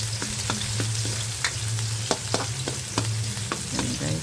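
Ginger and onion sizzle steadily in a hot pan while being stirred, with a run of sharp scraping clicks from the spoon against the metal over a constant frying hiss.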